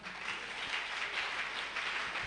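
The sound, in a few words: audience clapping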